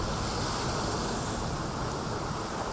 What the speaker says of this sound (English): Gale force winds caused choppy seas.